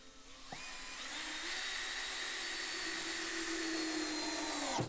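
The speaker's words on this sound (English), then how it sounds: "They come with their own bit for your drill." A power drill driving deck screws whirs steadily at high speed for several seconds, starting abruptly and cutting off at the end, close and loud with no talking.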